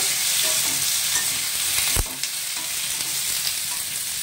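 Potato, eggplant and bean pieces fry noisily in a pan, a constant close sizzle broken by a single sharp clack of a spatula against the pan midway, with no voices.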